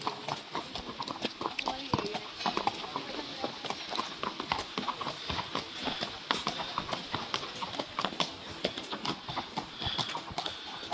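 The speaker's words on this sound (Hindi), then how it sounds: "यहाँ पर ना घुड़सवारी हो रही थी।" Hooves of a special Hungarian breed horse clip-clop steadily on a riding ground in Hungary, a rapid, close, uneven patter that fills the scene with outdoor background noise.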